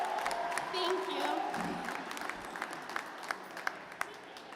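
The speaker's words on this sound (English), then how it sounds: "give it up for Hazella one more again." Applause and light cheering from an audience at a spoken word poetry event, moderately loud at first, then thinning into sparse claps with some voices mixed in.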